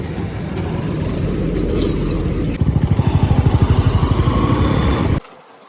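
Motorcycle pulling away at full power during a group monsoon ride, a loud, close engine roar that steps into a rapid pulsing throb as it accelerates, then cuts off abruptly.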